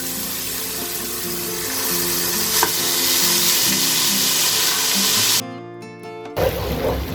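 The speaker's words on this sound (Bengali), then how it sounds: "এখন দিয়ে দিচ্ছি আদা পেস্ট এবং রসুন পেস্ট।" Ginger and garlic paste sizzles loudly in hot oil for a sweet mango pickle, a dense, steady frying hiss with light stirring, briefly cut off near the end before resuming.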